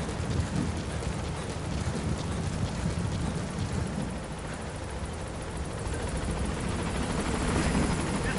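A helicopter in Metal Gear Solid V: The Phantom Pain roars loudly and steadily, a dense rotor and engine rumble filling the whole stretch without pause.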